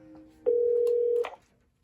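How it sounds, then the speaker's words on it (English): A Cisco CP-8865 IP phone on speaker gives one steady electronic ring tone of under a second, clear and fairly close, framed by soft clicks and faint room noise. "Here goes my other phone's ringing."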